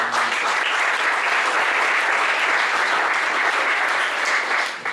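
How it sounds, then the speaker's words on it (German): Audience applause at a live talk evening with guests on stage, steady dense clapping from a seated crowd filling the room at full strength for the whole stretch, easing slightly only at the very end. "Zuerst mal einen großen Applaus für alle drei."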